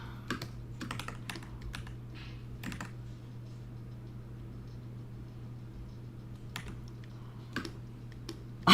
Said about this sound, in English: Do you hear this keyboard, y'all? It's, like, so quiet.